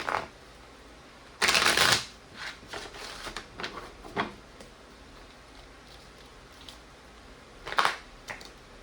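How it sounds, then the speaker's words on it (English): A deck of tarot cards shuffled in a loud riffling burst, followed by scattered softer flicks and taps, then another brief riffle near the end. "Spirit saying shuffle it again."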